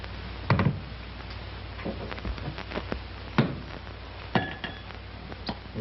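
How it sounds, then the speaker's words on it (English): Glass handled with a few sharp clinks and knocks, a tall glass with ice being readied for whiskey in a 1938 film scene, close and sparse against a low steady background hiss. "you take a glass up like this and you start pouring the whiskey"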